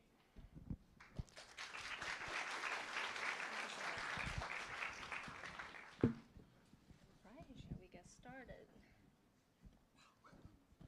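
Applause from an audience at an economics graduate commencement ceremony, a broad sustained wash of clapping for several seconds that stops sharply, followed by faint voices and small room noises.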